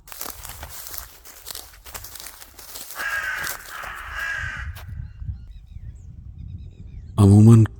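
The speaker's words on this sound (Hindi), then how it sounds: "अमूमन कौवों की आवाज मुझे बेहद पसंद है" Crows cawing in open, empty countryside, several harsh calls close by over soft rustling and shuffling footsteps, ending in one loud, sudden caw.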